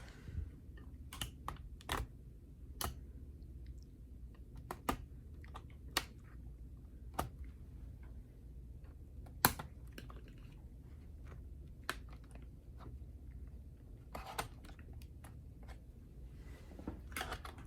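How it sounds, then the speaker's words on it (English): A keyboard is pried out of a Dell Inspiron 5555 laptop, giving sharp, scattered plastic snaps and clicks at irregular intervals against a quiet background. "We can pry the keyboard out."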